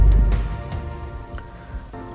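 Heavy rain pounds a car during a long drive, a loud, dense, steady wash of drumming drops with occasional heavier patters, close and enveloping for about two seconds.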